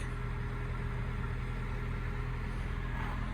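A 2001 Vauxhall Corsa C 1.2 SXi with 51,000 miles idles smoothly just after starting, a steady low engine hum with no rattles, heard alone and fairly quiet throughout.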